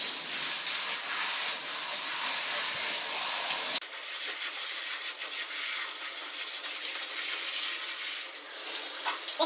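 Steady, loud running water hisses and sprays from a tap onto shampooed dreadlocks, a continuous close gush with a slight change in tone partway through as the flow shifts.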